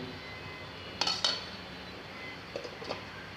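A metal lid clanks onto a cooking pot of potato and egg curry, two quick clinks close together followed later by a softer pair of taps, set against a quiet kitchen background.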